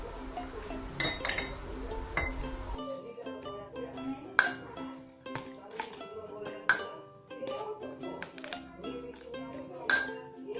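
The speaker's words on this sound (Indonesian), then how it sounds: "masukkan 5 sendok aquades ke dalam gelas yang kedua." Spoonfuls of distilled water go into the second glass during a carbohydrate, protein and fat lab test, giving a run of light glassy clinks and taps at irregular intervals, close and clear over a quiet background.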